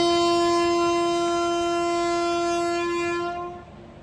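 A passenger train sounds its horn as it pulls away from Bommasamudram station in Andhra Pradesh, a single long, loud, steady blast that cuts off near the end and leaves a quieter rumble.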